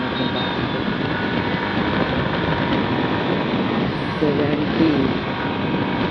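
A Hero Glamour Xtec motorcycle pulls away in second gear at around 40 km/h, with a loud, continuous engine drone and wind rush close by throughout.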